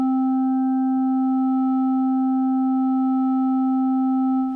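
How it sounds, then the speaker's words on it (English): Sonicware Liven Evoke synthesizer holding a steady, loud sustained tone whose wave is modulated almost from the start, continuous for several seconds without talk. "now that attack phase is so short that we almost instantaneously start modulating our wave sound"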